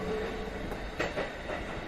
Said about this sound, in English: began to slow as the train drew nearer to his station.